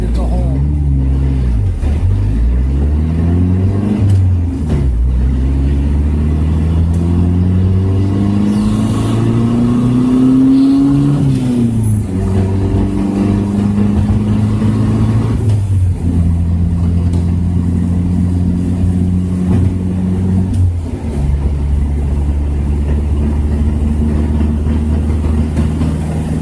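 A turbocharged car with a newly fitted heavy clutch accelerates hard from 55 to 145 mph at 10 psi boost. The engine is loud and close, pulling up in rising sweeps, dropping sharply at each gear change, then climbing again.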